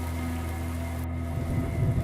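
Steady heavy rain pours in a thunderstorm night, a dense continuous hiss with a low rumbling undertone of thunder that swells slightly toward the end.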